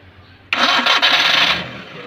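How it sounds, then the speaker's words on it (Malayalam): Maruti 800 engine cranks briefly and catches, settling into a loud, steady running roar up close that eases slightly near the end, with no talk over it. "ഓക്കെ, ക്രാങ്ക് ചെയ്ത് സ്റ്റാർട്ട് ചെയ്തേ."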